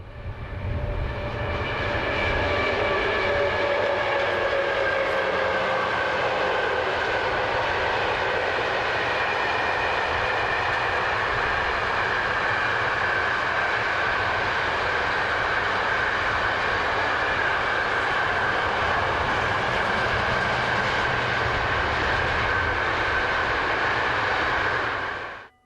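A diesel locomotive, one of four ACTS engines bought from Dutch Railways, passes near Woerden in the Netherlands. Its heavy engine drone and rolling rumble stay loud and steady throughout, with no voices.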